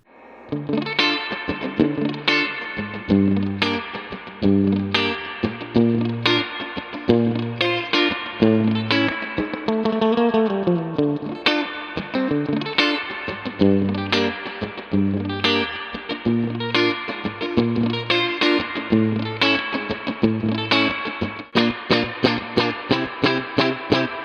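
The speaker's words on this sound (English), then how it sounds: "I dimed the reverb. So let's hear what that sounds like." Electric guitar through a Mesa Boogie Rectoverb 25 amp with reverb turned fully up, playing a twangy melody over steady rhythm, awash in heavy, splashy reverb, loud and continuous with no talking.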